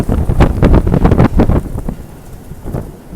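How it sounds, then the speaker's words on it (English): Strong gust from Typhoon Hato in Hong Kong roaring into the microphone, loud buffeting rumble for about a second and a half, then easing to a steadier lower rush. "Oh boy, here comes a big wind."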